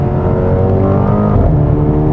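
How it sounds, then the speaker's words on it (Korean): Mercedes-AMG GLB 35 4Matic accelerating, its engine droning loud and steady from inside the cabin, with a brief burble from the exhaust during a gear shift. "변속될 때 바바방 소리 좀 나죠."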